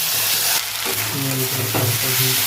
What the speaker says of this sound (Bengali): ঘিয়ের মধ্যে সাবু দিয়ে দেবো, সাবুটা দিয়ে দেবো।